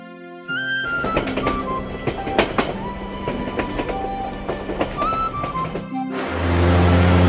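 Cartoon-style train sound effect with rolling wheel clatter and scattered clanks over a steady rumble, several tonal squeals or whistle notes, then a louder hissing burst near the end.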